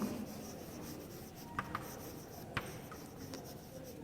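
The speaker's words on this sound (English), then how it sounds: "while writing" Quiet scratching of a pen or pencil writing by hand in a classroom grammar lesson, soft continuous rubbing with a few small taps, faint and close with no talk.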